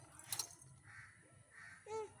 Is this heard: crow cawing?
yes